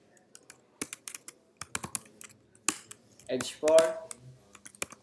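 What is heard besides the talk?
typing HTML code on a computer keyboard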